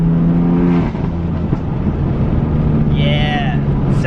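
A BMW M3 engine, not fully warmed up, revs briefly with a steady loud roar that rises and holds, close by, with someone talking over it.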